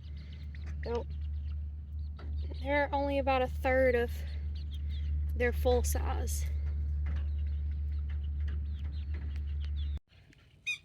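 Young chickens about eight weeks old peep in quick bursts of high chirps over a steady low hum, while a person speaks between the peeps.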